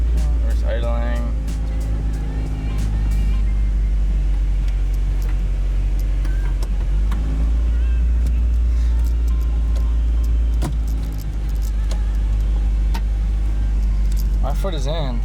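A Honda Prelude VTEC engine idles steadily in reverse with the emergency brake on, a constant low rumble running under someone talking throughout.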